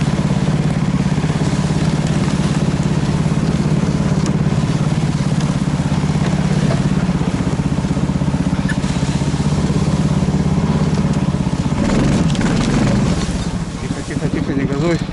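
A motorcycle engine droning loud and close while riding across tundra, holding a steady rumbling tone before easing off near the end.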